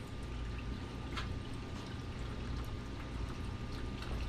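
Steady water pours and trickles into a gold sluice during a micro gold cleanup setup, a continuous broadband wash with no talking.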